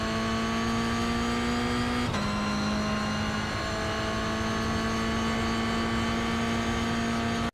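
A steady, high-revving Toyota GR86 race car engine in a video game drones continuously with a sharp gear shift partway through, loud and close with no voices.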